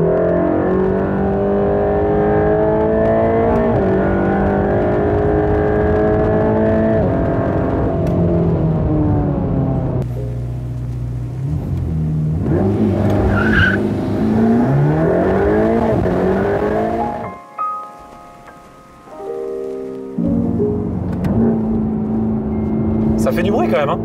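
A Mercedes-AMG GT Black Series engine roaring loud and close as the car accelerates and revs, with rising and falling pitch, a brief lull near the end and tire noise mixed in.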